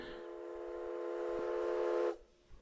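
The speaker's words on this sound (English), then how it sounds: "Okay, a train horn." A train horn from the video game Myst sounds as one long, steady, loud tone with rich stacked harmonics, holding for about two seconds before cutting off abruptly into near silence.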